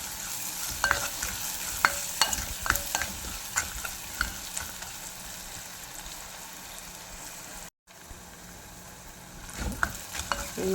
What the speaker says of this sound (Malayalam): ഇത് നന്നായിട്ട് നമുക്ക് ഒന്ന് മിക്സ് ചെയ്യാം. അല്പം ഉപ്പ് ചേർക്കാം.